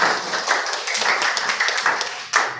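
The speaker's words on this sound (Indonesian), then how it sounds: "Tepuk tangan untuk kita semua" Hands clapping in a classroom lesson, a group clapping in uneven bursts with a sharp louder clap near the end.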